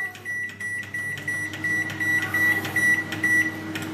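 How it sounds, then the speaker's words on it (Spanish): A microwave oven hums as it heats a plate, a steady close drone with a repeating high tonal whine pulsing at a regular rhythm. "Y primero tenemos que colocar este plato y va al microondas."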